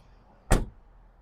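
A single solid thud as the door of a 1976 Chevrolet K-30 Silverado crew cab truck shuts, close and fairly loud, with quiet before and after.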